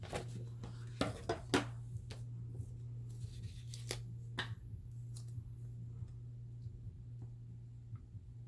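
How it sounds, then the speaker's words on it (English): Scissors cutting paper for a journal, a quiet scattered series of sharp snips and crisp paper clicks over a low steady hum, close and soft, with no talking. "Let me go ahead and cut this."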